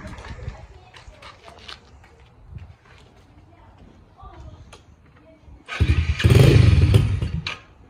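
A pit bike's small engine starts up late in the clip and runs loud and close with a rough buzzing idle, after several seconds of quiet handling noises and people talking.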